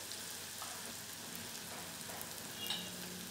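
Onion sizzles in a pan with turmeric and chili powder for jowar upma, a steady faint frying hiss with light stirring, no talk.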